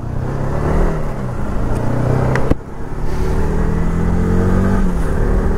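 A 2014 Yamaha R15 v2 motorcycle engine revs up, a loud close whine that climbs in pitch, dips briefly with a sharp click, then surges again.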